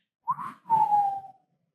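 A person whistles two short rising-and-falling notes, the second held longer and sliding gently down, close and clear with no talk around it.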